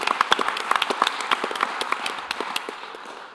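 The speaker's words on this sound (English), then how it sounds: "I also like to have a hand of applause for that" An audience at a convention panel breaks into applause, a dense crackle of many hands clapping at once that gradually thins and fades toward the end.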